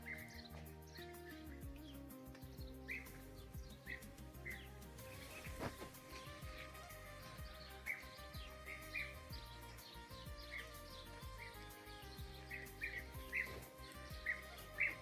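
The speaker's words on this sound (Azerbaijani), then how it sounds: "bu gözəl quşlar gəlib artıq arıxananın lap üstündə fırlanıb dövrə vurur" European bee-eaters calling as they circle low over a beehive apiary, a steady stream of short chirps and trills repeating throughout, moderately loud against a busy outdoor background with no talking.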